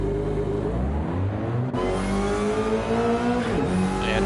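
A race car in Gran Turismo accelerates hard out of the pit box, its engine climbing steadily through the gears with a sharp shift partway, loud and continuous throughout.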